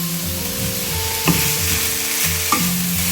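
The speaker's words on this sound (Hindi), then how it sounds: "हल्का सा चम्मच चलाएंगे, चिकन ऐड कर देंगे।" A spoon stirs spiced chicken samosa filling in a hot frying pan, a continuous close sizzle with two distinct scraping knocks of the spoon against the pan.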